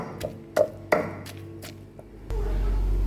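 Shrimp is pounded in a mortar with a pestle for a Vietnamese dish, several sharp close thuds in an uneven rhythm, followed by a low rumbling.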